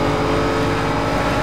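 Chevette fitted with a Mustang engine in Need for Speed Most Wanted, a loud close engine held at high revs with a dense throaty roar throughout the short burst.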